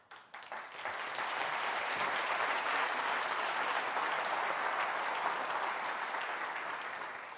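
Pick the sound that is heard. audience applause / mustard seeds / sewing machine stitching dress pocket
audience applause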